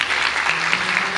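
A church congregation clapping in praise during an Independence Day service, a brief burst of dense, steady applause filling the room, loud and close.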